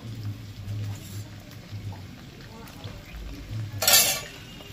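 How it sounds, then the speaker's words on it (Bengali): A spoon stirs cornflour into a little water in a small sauce bowl, making soft repeated scraping swirls in a steady rhythm, with a brief sharper clink near the end. "কর্নফ্লাওয়ার হালকা করে একটুখানি জল দিয়ে গুলে নেব"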